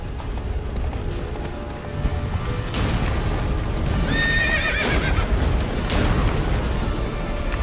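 Roach the horse in The Witcher 3 gallops with loud, rapid hoofbeats and lets out a clear whinny partway through, set against a rumbling battle backdrop at Kaer Morhen.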